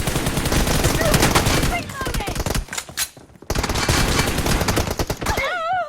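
Rapid automatic gunfire from a video game team deathmatch, loud dense bursts of shots that break off briefly and resume, ending in a warbling whine, with the player's voice faintly mixed in.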